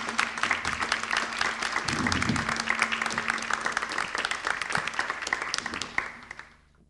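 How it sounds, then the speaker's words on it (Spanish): Audience applause at the close of a talk on the Democratic Republic of the Congo, sustained dense clapping for about six seconds before fading out, a low hum running underneath. "Un aplauso, por favor"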